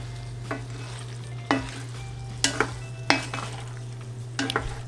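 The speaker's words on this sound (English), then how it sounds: "Toss it all together to coat it in the sauce and then season with salt and pepper." Pasta tossed and stirred through a simmering cream sauce with sundried tomatoes and sausage: five or six short wet scraping, clattering stirs over a low sizzle and a steady hum.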